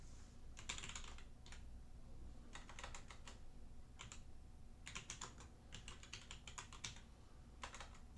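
Typing on a computer keyboard during an Ubuntu 24.04 setup, short bursts of quick key clicks separated by brief pauses, fairly close but quiet over a faint steady hum, with no one speaking.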